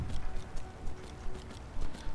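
Horse hooves clip-clopping in a video game, a steady close rhythmic trot of muffled beats over a low background rumble, without talking.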